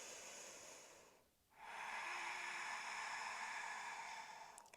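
Slow, audible breathing during a yoga flow, a steady breathy rush that fades into a brief pause and then swells into a long, sustained exhale, heard close and alone.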